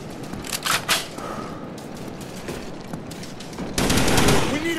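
Rapid automatic gunfire from Call of Duty Black Ops gameplay, dense bursts of shots running through most of the clip and growing louder and heavier near the end.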